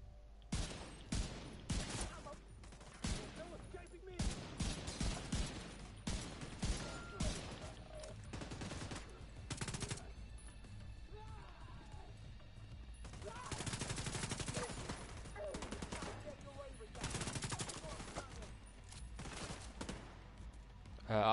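Gunfire in The Division 2, repeated bursts of rapid shots, some sustained volleys and some shorter stutters, fairly close and sharp with brief pauses between them.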